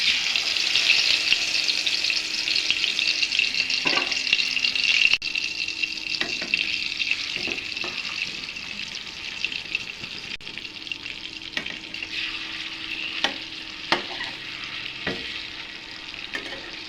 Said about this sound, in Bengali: মাছগুলো ভেজে নিব তারপর লাল লাল করে